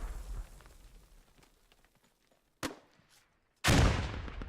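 A grenade explodes in a multiplayer shooter match: a sharp crack, then a loud, broad, booming blast near the end after a brief quiet gap.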